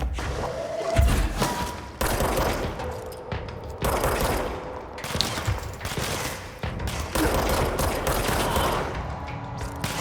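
Rapid machine-gun bursts and heavy gunfire with booms and thuds fill a firefight in the Control video game, dense and loud throughout with brief gaps between volleys.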